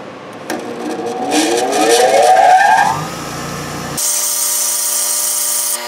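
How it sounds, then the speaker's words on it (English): A tungsten TIG welding electrode spun in a drill and ground to a sharp point, giving a loud, rising whine with grinding rasp for a few seconds, then a steady high-pitched motor hum. "let's grind this down."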